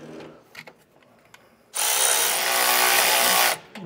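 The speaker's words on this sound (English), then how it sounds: "We're going to take a 9/16 socket to snug this up first." A power tool with a 9/16 socket snugs down a nut and flat washer on a rear anti-sway bar of a 2019 Ford F-53, a brief near buzzing whir of about two seconds after quiet clicks.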